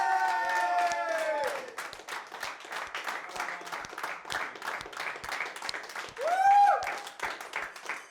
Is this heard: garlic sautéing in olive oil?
no